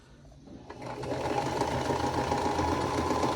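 A sewing machine stitches a vintage-style quilt block, starting quietly then settling into a steady, close, fast mechanical whir and rapid needle chatter.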